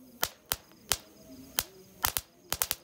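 Crackling fountain firework burning at night, sharp separate pops and crackles in irregular bursts, some in quick clusters, fairly close and loud against a quiet background.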